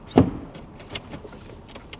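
Power window motor in a once-sunken Porsche, a sharp mechanical clunk followed by a brief whirring run and faint clicks, close inside the car cabin.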